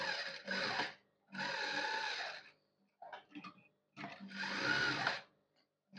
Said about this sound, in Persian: شروع میکنم به دوختن دور تا دور